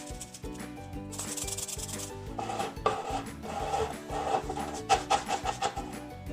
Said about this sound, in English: it's like a rattle, ASMR, and a relaxing anti-stress toy all in one